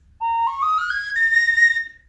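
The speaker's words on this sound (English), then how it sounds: "So this is a 4-hole whistle." A four-hole whistle played like a Native American flute sounds one clear, breathy note that slides upward and then holds steady, heard alone and close for about two seconds.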